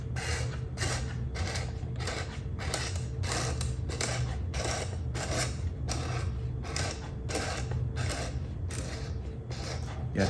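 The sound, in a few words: cranking film onto a developing reel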